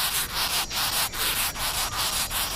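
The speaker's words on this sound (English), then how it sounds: "Longhorn beetles rasp out loud warnings using a file on their backs" A longhorn beetle rasps a warning by scraping the file on its back, a loud, close, dry grating that pulses in rapid repeated strokes with short gaps between bursts.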